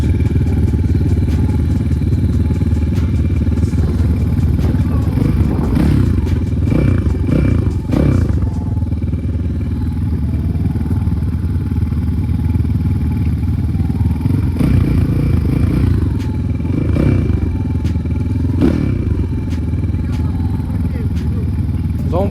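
Several motorcycles idle together while warming up, a steady low engine rumble running throughout with occasional clatter and revving bursts, with people talking nearby.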